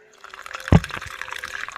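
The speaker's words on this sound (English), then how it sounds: "That honestly sounded like somebody pouring something into a cup" In the horror video game The Cat Lady, liquid pours near a rusty bathtub, with a sharp splash onset followed by a steady, trickling fill like something poured into a cup.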